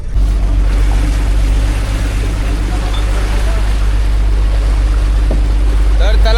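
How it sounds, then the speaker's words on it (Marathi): A speed boat pulling away from a jetty in Mumbai, with loud, steady engine rumble and rushing water noise throughout, heard from the upper deck, plus a brief chirp near the end. "फायनली आपली बोट सुटली आहे"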